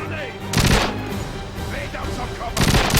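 Video-game gun firing in rapid bursts, two loud clusters of sharp cracking shots separated by a quieter stretch, with someone talking in the gaps between bursts.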